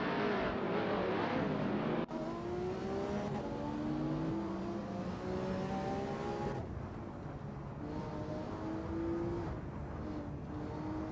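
Race cars in an AI racing simulator game, supercars at Road Atlanta, drone steadily with engine notes rising and falling through gear changes, one sharp shift cutting in partway, loud and continuous with no talk.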